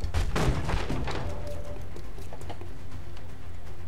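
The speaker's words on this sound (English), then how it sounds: "We're going to run and gun up and shoot him in the face." Gunfire in XCOM Enemy Unknown during an abduction-site mission, a few sharp shots in the opening second and a half over a steady game background, fading into ambient rumble.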